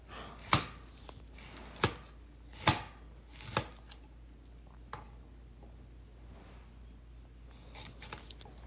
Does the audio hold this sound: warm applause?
no